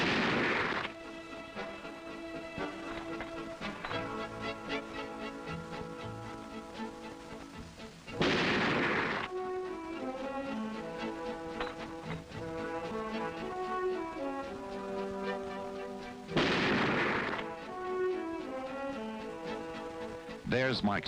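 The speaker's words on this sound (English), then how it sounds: "Each shooter will fire 3 shots at 100 yards" Remington Model 700 bolt-action rifle fired at a 100-yard range, three loud booming shots spaced several seconds apart, heard under background music and narration.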